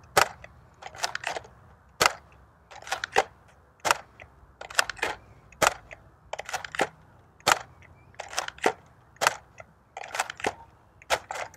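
A stock Nerf ZombieStrike Flipfury blaster fires a string of darts, each shot a sharp, close snap with a brief mechanical rattle, coming in irregular bursts of two and three across the stretch with quiet gaps between.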